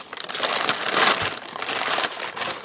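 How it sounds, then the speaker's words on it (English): A plastic bag of sock yarn crinkles close by, a dense continuous rustle that swells and fades for a few seconds with no voices. "Again with the plastic bags."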